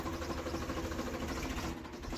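Tractor engine idling on a farm beside buffalo sheds, a steady low mechanical rumble holding even throughout, no speech.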